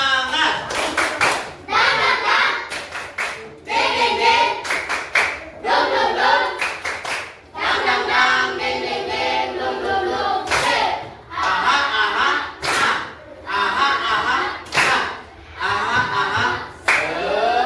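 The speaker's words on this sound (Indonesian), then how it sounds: "Coba tepuk semangat." Schoolchildren in a classroom clap a rhythmic 'tepuk semangat' chant together, bursts of sharp group claps in patterned sequences with children's voices chanting and chuckling between them, loud and close.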